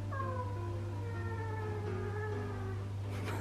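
A female cat growls angrily in a long, low, sustained rumble with a rising wavering whine on top, close and steady throughout, with no talking.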